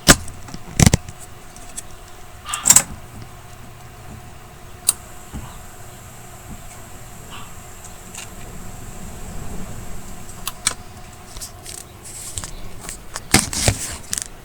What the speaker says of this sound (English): I'm gonna take my microphone here and touch it into the metal cast here, so you can kind of listen to the motor